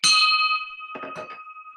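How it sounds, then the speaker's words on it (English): A bell struck once to open a weekly club meeting, a bright sustained ring that slowly decays while people talk faintly over its tail. "I'm gonna ring the bell."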